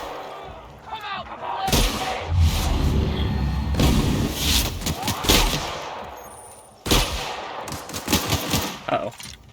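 Heavy gunfire erupts in the video game The Outer Worlds, with booming shotgun blasts and rapid bursts of shots over a loud, dense battle din, pausing briefly before another close blast and more firing.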